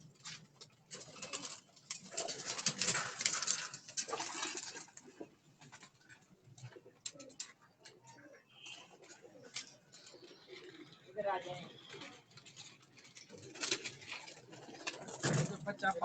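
Breeder pigeons on a rooftop loft coo repeatedly in soft, rolling bursts, close by and fairly quiet, while people talk over and between the calls.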